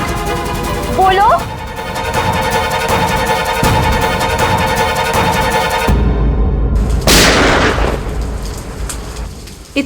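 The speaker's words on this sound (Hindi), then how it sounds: "ये तो पटाखों की आवाज नहीं लगती, ये कहीं गोली चली है।" Sharp gunshots in a Hindi TV serial crack loudly over steady heavy rain and music, with one big burst near the end of the stretch, while a voice speaks briefly early on.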